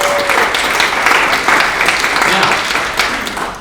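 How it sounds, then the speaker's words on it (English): Loud, sustained audience applause for Eisenhower at an elections integrity symposium in Oregon City, dense clapping filling the room with a few voices mixed in. "Let's give Eisenhower a round of applause."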